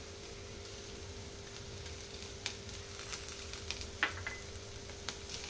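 Green chilies and curry leaves frying in hot oil, a steady soft sizzle with small crackles and pops, close and fairly quiet, with no talking.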